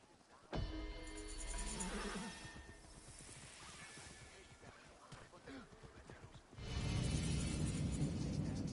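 A horse whinnies loudly in the Assassin's Creed Origins video game, a long shaky neigh over a dense game soundscape. A swell of music or ambience rises near the end.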